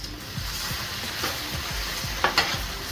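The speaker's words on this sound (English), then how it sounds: "you hear that sizzling" Steady loud sizzling of steak in a hot pan for street tacos, with a few scraping stirs and clinks of a utensil partway through.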